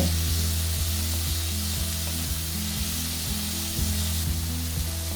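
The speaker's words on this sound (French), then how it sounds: "mettre des oignons nouveaux coupés et faire sauter un moment pour tirer le goût" Spring onions and tomatoes sauté in olive oil in a pan with a steady, close sizzle, broken by faint regular taps and stirring sounds. Nobody speaks.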